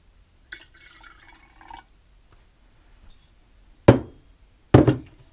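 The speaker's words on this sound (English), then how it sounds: "Okay. So here we go. No drips." Water poured from a teapot: a short trickling pour early on, then quiet, followed by two sharp knocks as the pot or a lid is set down, all close and without talk.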